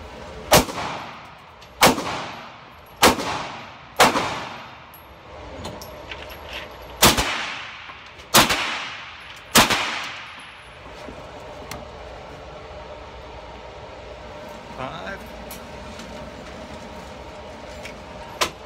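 A Kriss Vector gun fires single shots from a 30-round magazine, seven loud, sharp reports about a second apart, each ringing off with a decaying echo, followed by quieter background clatter.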